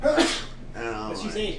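A single sharp, breathy sneeze right at the start, followed immediately by people talking.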